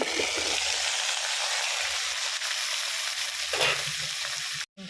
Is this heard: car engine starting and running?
no